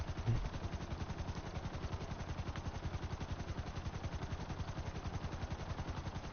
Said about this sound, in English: Has explosive cannons, which is some of the like top tier explosive cannons in the game.